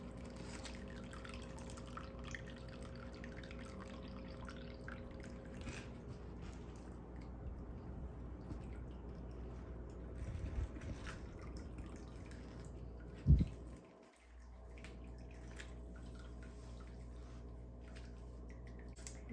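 Whey from raw-milk cheese straining in cloth drips in faint, sparse drops over a steady low hum, with one brief louder thump partway through.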